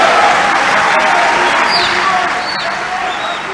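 An audience at a ceremony applauds after a speech by President Tshisekedi, a loud, dense wash of clapping that slowly fades.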